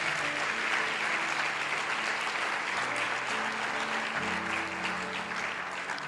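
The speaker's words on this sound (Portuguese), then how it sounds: "aplauda ao Senhor Jesus bem forte" A church congregation applauds loudly and steadily for about six seconds, a dense wash of clapping with held musical tones sounding underneath throughout.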